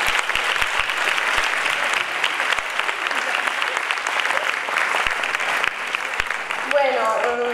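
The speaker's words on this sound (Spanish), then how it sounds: "Por favor, un aplauso mejor," A gala closing ceremony audience at a film festival breaks into steady, full applause that carries on for several seconds, and a voice begins speaking near the end as the clapping continues.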